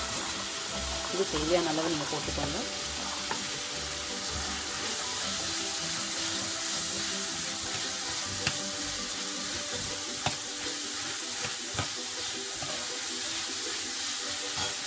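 Chopped carrots and beans sizzle in a pan for a restaurant-style rava kichadi, a steady close frying hiss under stirring, while someone talks over it.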